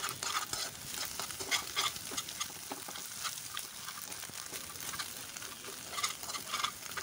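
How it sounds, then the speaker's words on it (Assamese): Beaten eggs fry and get stirred in a pan for egg Maggi, a quiet, close sizzle broken by repeated scraping and stirring strokes, with no talking. "কণীখিনি মই গুড়িকৈ ভাজি লম।"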